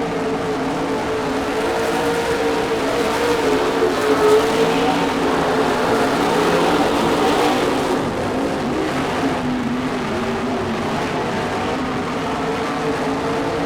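Race car engines drone and rev steadily on a track during a race, a dense, continuous mid-distance roar that swells and eases slightly without pause.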